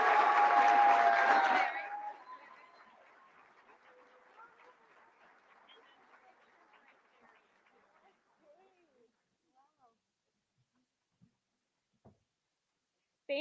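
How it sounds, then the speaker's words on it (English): Applause from an audience at an award ceremony marking 40 years of the Centro Hispano, a loud burst of clapping that quickly fades to a few scattered claps and then near silence. "I love the clapping."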